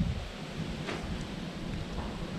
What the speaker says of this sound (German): Momentan nämlich saumäßig windig draußen.